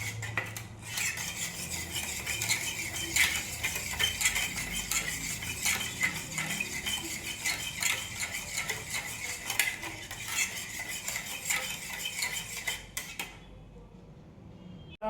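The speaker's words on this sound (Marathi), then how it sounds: "फेटून घ्यायचं. जितकं फेटाल तितकं केक चांगला होईल." Whisk or spoon clinking and scraping steadily against a bowl while beating curd-based batter for a New Year cake, a busy continuous metallic rattle that stops near the end.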